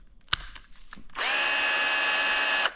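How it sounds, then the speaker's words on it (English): A small, slow electric drill gives a few short clicks and bumps, then whirs steadily at close range for over a second before cutting off, its motor recently fitted with a gear from an old motor. "This drill is actually quite good. It's not very big and it's not very fast"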